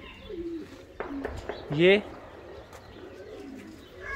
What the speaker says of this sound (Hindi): इन्होंने कबूतर भी रखे हुए हैं यहाँ पर भी